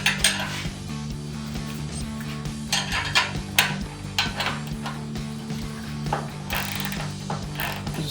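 A 17mm socket ratchet snugging down the wing bolts on a Barricade Extreme HD modular front bumper on a 2007-2013 Chevrolet Silverado 1500, with quick bursts of clicking pawl strokes and metallic clanks nearby, and no voices.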